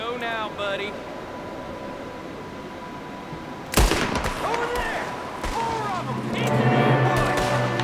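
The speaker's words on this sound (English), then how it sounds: "Gunslinging is starting." Gunfire breaks out in the Red Dead Redemption 2 video game: a sudden loud burst of shots, followed by scattered cracks and a chaotic mix of game action, with voices talking over much of it.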